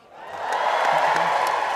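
An audience clapping and cheering at a Britain's Got Talent 2022 comedy performance, a broad wash of applause that rises quickly and holds steady, loud and close for under two seconds.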